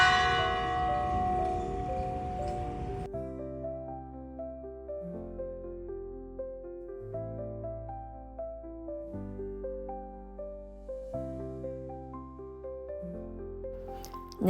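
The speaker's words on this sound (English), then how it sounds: "the full bell rings, the iconic class bell sound that brings back so many student memories" A university campus class bell rings out in a long, melodic sequence of sustained chiming tones, clear and fairly loud against a quiet outdoor background, with a brief louder burst of noise at the start.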